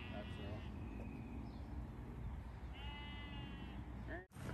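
A goat bleats in wavering calls against a constant background hum, with a brief sharp noise near the end.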